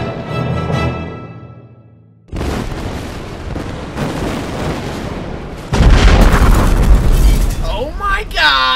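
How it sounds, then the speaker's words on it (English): A big rocket explosion right after an ignition countdown in an animated episode: a deep, sustained roar and rumble that swells louder partway through, following a short tonal sound, with a voice reacting near the end. "Whoa, that was a big explosion."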